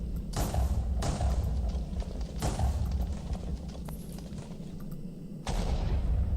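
Explosions in the Minecraft video game, set off by shooting a creeper during modded play. Several sharp booming bursts stand out over a continuous low rumble, with the last blast close and loud near the end.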